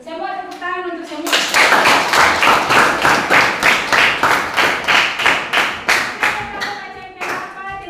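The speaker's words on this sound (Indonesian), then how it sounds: "Semua tepuk tangan untuk semua" Students in a junior high school classroom clap hands together in unison for about six seconds, a loud rhythmic burst of steady beats that starts abruptly and fades out, with brief speech before and after.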